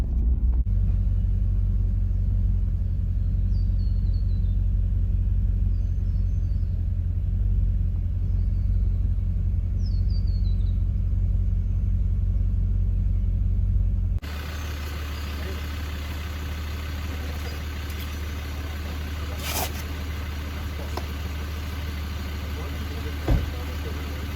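A 4x4 vehicle on an off-road trip in the Watagans, NSW, Australia, with a loud low engine rumble and cabin drone that drops to a quieter idling hum partway through, with occasional faint clicks.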